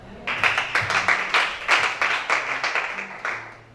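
A congregation at a worship service applauds together, a close burst of rhythmic clapping lasting a few seconds with pulsing beats, under a faint voice.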